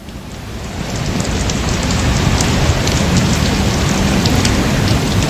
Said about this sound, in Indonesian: hujan yang mengguyur DKI Jakarta membuat debit air di pintu air Manggarai naik